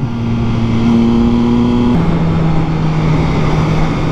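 A 2024 Triumph Trident 660 pulls in third gear at low speed, its loud, close, steady engine drone holding one pitch before stepping down to a lower tone midway.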